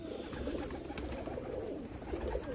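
Flying-breed (parwazi) pigeons coo softly and steadily at close range, a continuous low murmur lasting the whole stretch with no voices over it.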